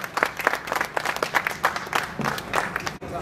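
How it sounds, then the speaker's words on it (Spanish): Audience applause at a press conference for regional Mexican music groups, a dense patter of many hands clapping with crowd murmur underneath, steady for a few seconds before cutting off. "Está con nosotros, un fuerte aplauso."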